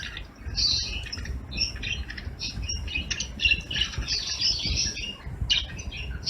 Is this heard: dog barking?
no